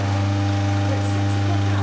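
The oil return pump on a commercial deep fryer filters oil back into the vat with a steady, loud mechanical hum and drone that holds unbroken throughout, with no voices.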